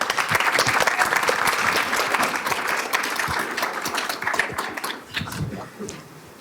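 Round of applause from an audience for student panelists at a school event, dense sustained clapping that tapers off near the end, with faint voices underneath.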